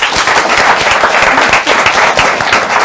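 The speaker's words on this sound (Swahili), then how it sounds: "Wapi makofi yao?" An audience applauds loudly and steadily, with dense, continuous clapping filling the whole stretch.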